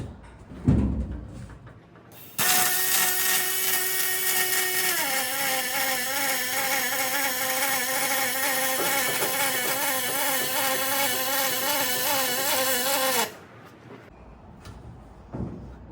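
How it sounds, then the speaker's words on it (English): A continuous welding buzz with a wavering electrical tone runs for about eleven seconds as a boat seat pole mount is welded. A few clanks come before it, and quiet follows. "Let's weld them out."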